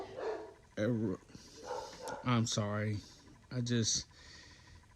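Several dogs barking in short harsh bursts, loud and close, with a faint voice speaking briefly between the barks.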